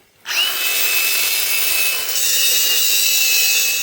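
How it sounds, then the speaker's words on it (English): Power tool cutting through a car's steering bracket held by dome head bolts, as a demolition derby car is stripped; a loud, steady grinding whine starts abruptly and runs continuously, close and alone with no talk. "The easiest way to do it is just cut this bracket here, because these bolts are all dome head bolts."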